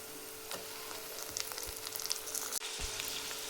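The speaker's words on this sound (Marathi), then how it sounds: "हिरवी मिरची टाकायचे, भाजून घ्यायचे व्यवस्थित" Green chilies and tomatoes fry with onion in a pan on a steady, moderate sizzle, with a few soft scrapes and clicks of stirring and one brief dropout near the end.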